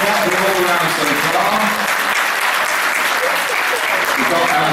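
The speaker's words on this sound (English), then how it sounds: "Come on, let's have some applause, please." Loud applause from the audience at a poodle show final at a Poodle of the Year gala, sustained clapping filling the hall with a crowd murmur mixed in.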